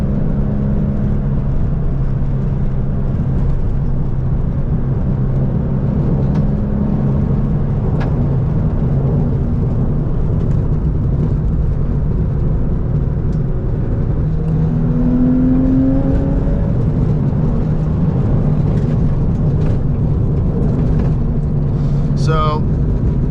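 A Porsche 996 climbs the Angeles Crest Highway through the mountains, its engine a steady loud drone with road and wind roar from inside the cabin, rising briefly in pitch mid-drive, with no talking.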